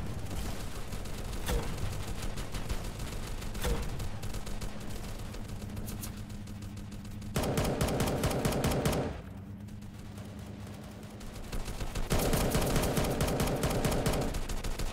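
Rapid automatic fire from an AUG rifle in Roblox Base Battle, sounding as repeated bursts of fairly faint gunfire that come and go over the stretch, with no talking.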